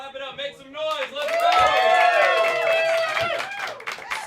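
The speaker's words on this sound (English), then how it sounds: "Clap it up, make some noise" At a New York comedy roast, a crowd cheers and whoops loudly, with scattered clapping under the rising voices for a few seconds.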